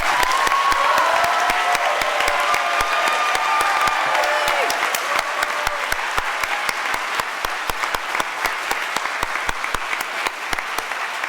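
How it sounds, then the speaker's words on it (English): Sustained applause from an awards-ceremony audience, a steady dense wash of clapping with sharp individual claps standing out, a few whoops and cheers over it, loud and continuous throughout. "Please rise to receive our applause."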